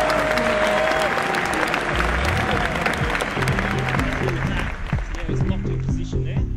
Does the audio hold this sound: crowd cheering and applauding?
yes